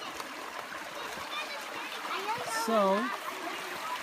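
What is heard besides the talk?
small creek stream flowing at a campsite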